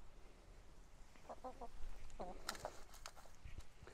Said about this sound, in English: These lucky ladies are ex-battery hens.